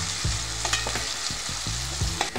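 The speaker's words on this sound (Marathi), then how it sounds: "आता मी यामध्ये 1 चम्मच आलं लसूण पेस्ट टाकून घेणार आहे आणि ते चांगल्या प्रकारे मिक्स करून घेणार आहे।" Ginger garlic paste frying in a pan for a boiled potato chutney, with a constant loud sizzle and several spatula stirs and scrapes close by, and no voices.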